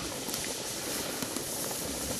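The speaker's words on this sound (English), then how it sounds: "this little valve pops up, so all the steam is coming out of the top" Steam hisses steadily from the valve of a pressure canner heating on a rocket stove, a faint, continuous airy rush with no talk.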